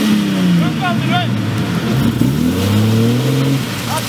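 An off-road vehicle engine revs and drones loudly up close while driving through deep mud, its pitch rising and falling, while people shout over it.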